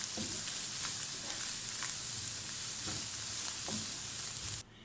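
Mushrooms and vegetables sauté in a pan with a steady close sizzle and soft stirring taps, ending abruptly.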